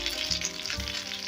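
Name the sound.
honey garlic chicken breasts frying in a pan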